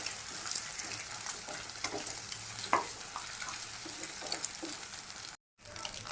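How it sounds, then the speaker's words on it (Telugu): Eggs frying in a pan while being made into egg uggani, giving a steady close sizzle with occasional scrapes and light taps, and a brief dropout near the end. "ఎగ్స్ ఈ విధంగా ఫ్రై అయితే చాలండి"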